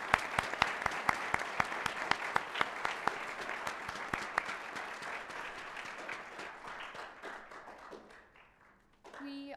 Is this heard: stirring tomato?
no